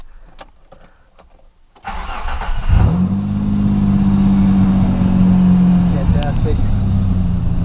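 A Mitsubishi Pajero with a modified full exhaust and throttle body cranks briefly and fires up, then settles into a steady, loud, close idle. Someone speaks faintly before the start.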